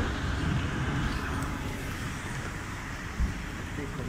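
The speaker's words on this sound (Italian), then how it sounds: "Sentire il verso del rumore dell'alto lavaggio." High-pressure spraying in an automatic car wash, a steady broadband rush of water jets against the car, continuous and moderately loud, with one brief knock partway through.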